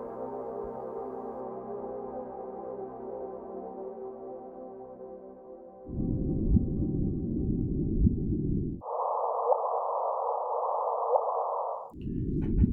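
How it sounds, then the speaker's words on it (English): A sonified gravitational-wave chirp of two black holes colliding plays as synthetic tones. A fading harmonic hum is followed by blocky bursts of band-limited noise and a brighter higher tone, with no voices. "What you are hearing is the sound of two black holes colliding."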